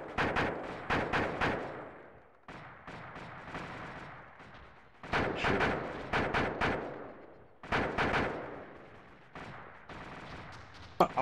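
Gunfire in ARMA 2, loud bursts of automatic fire in four clustered volleys, with sharp reports echoing between pauses and no voices over them.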